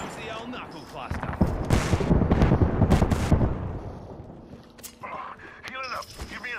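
Gunfire bursts in the video game Apex Legends, a cluster of loud shots and blasts in the middle, with game effects and shouted voices around them.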